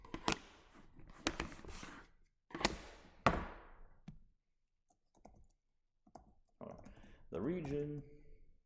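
Keys clatter on a computer keyboard in short, irregular bursts of clicks, mostly under a person talking, with a few isolated taps in the quieter gaps.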